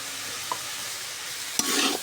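Ginger garlic paste frying with mixed vegetables in a pan makes a steady low sizzle, with a single light scrape early on and a brighter burst of stirring and crackle near the end, no voices.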